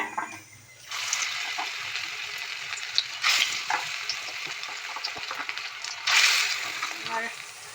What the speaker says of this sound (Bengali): আর বড়াগুলো ভাজা হচ্ছে।